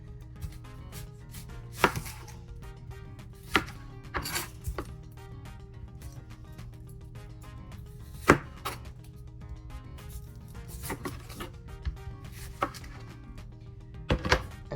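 A knife cuts food for a breakfast casserole, making irregular, sharp chops against a board with scattered clinks. The sound is quiet and nearby over a faint background hum, and no one speaks.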